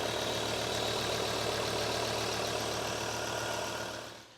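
A Ford Ranger 3.2 diesel engine idling during a thermostat replacement, a steady, even rumble that holds for several seconds before fading out, with no talk over it.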